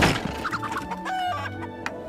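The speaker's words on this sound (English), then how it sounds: "Kara, you know how that upsets the chickens" Cartoon chickens on a farm cluck and squawk in an animated series, a busy flurry of short bird calls over background music, close and fairly loud.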